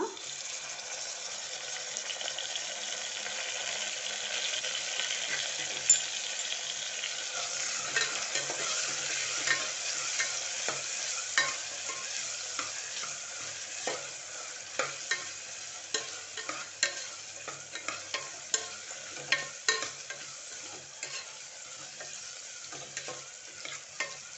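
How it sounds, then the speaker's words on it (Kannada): Onion and tomato fry in a pan for a chicken biryani, a continuous close sizzle with regular scraping stirs that grow more frequent toward the end, no voices. "ಈಗ ನಮ್ಮ ಈರುಳ್ಳಿ ಚೆನ್ನಾಗಿ ಫ್ರೈ ಆಗಿದೆ."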